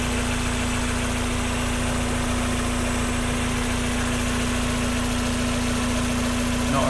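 A fuel-injected 1.8-litre engine in a Mk1 Mazda MX-5 Miata idles smoothly and steadily at close range, a constant even hum with no knocks or rattles and no talk over it.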